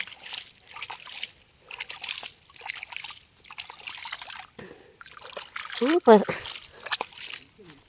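Drinking water trickles inside a hillside tunnel that serves as a water source, a soft intermittent dribble heard under nearly constant close talking, with a louder splash-like burst toward the end.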